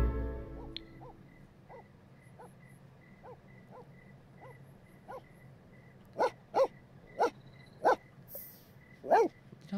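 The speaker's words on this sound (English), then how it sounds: "What are you barking at?" A dog from The Sims 4: Cats & Dogs barks in a game scene, soft repeated yips at first, then five louder, evenly spaced barks toward the end over a low background hum.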